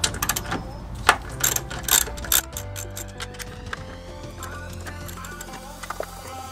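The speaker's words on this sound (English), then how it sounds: "we're just gonna remove these. I think they're 12 millimeter sockets, 12 millimeter bolts" A hand ratchet with a 12 mm socket loosens bolts on a 2017 Subaru WRX, giving several sharp bursts of metallic clicking early on, then a steadier ratcheting and faint mechanical rattle, close up.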